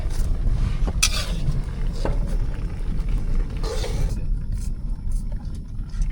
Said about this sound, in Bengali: মেঘের গর্জন শুরু হয়ে গেছে